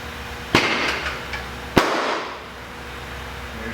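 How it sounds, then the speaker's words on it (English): A KTM adventure motorcycle tire bead pops onto the rim while inflating with an air hose, two sharp loud bangs about a second apart over a hissing background, close in a garage, no talk. "We're just going to attach the air hose and it should pop back up on the bead."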